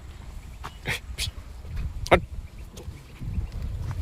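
A dog gives several short, sharp barks at moderate distance outdoors, scattered over a low rumbling background.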